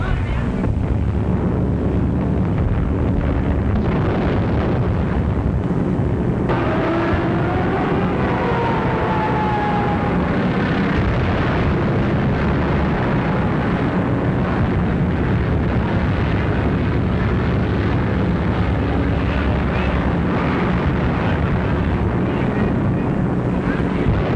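A 1943 wartime film soundtrack of a bombing raid carries a loud, continuous roar of aircraft and explosions with heavy low rumble, sustained for over twenty seconds.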